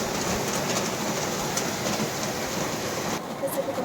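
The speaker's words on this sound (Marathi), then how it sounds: "आत्ता घरी आले आणि इतका जास्त पाऊस पडतोय" Heavy rain pours steadily in a dense, even hiss, continuous and fairly loud throughout.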